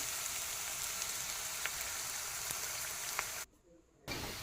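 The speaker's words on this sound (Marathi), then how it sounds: "कांदा आपल्याला छान तेलामध्ये परतून घ्यायचा आहे व्यवस्थित सोनेरी रंग येऊपर्यंत" Sliced onion sizzling in hot oil while being sautéed golden for a cauliflower bhaji, a steady close hiss with faint crackles that cuts out briefly near the end and then resumes.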